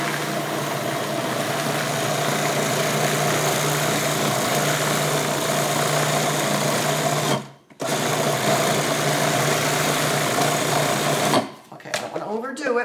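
Food processor pulsing black beans for gluten-free black bean burgers, a loud continuous motor whir lasting several seconds, a short stop, then running again before cutting off near the end.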